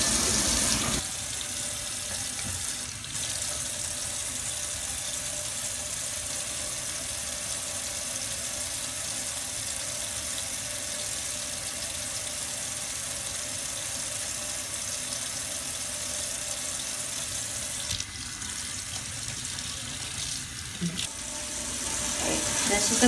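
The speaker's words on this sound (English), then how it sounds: "it's very important for you to start the water, feel the water before you would put the children's hands in the water" Tap water runs steadily from a faucet into a sink in a child care facility, a continuous hiss held at an even level for the whole stretch with a few small clunks, as when hands are washed under the stream.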